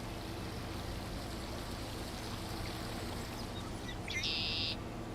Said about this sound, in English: Got a little sound effects there, some water sound effects